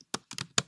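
Quick taps on a computer keyboard, four or five close, crisp keystrokes in a short burst, quiet and near.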